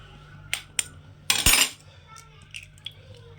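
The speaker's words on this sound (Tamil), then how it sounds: "முதல்ல ஒரு நாலு முட்டையை உடச்சி ஊற்றிக்கலாம்" Eggs for an omelette, four in all, are cracked and poured into a pot, heard as two sharp taps against the rim followed by a louder, brief splattering pour, then a few faint clinks.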